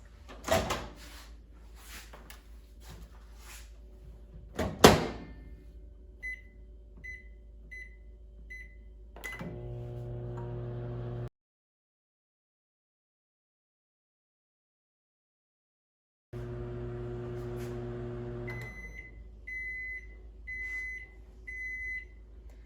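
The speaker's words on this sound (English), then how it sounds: "And now I will just put it in the microwave for 4 minutes." Handling and clatter, then a microwave door shuts on corn on the cob in its husk, keypad beeps sound, and the oven hums steadily; later it hums again and finishes with a series of beeps.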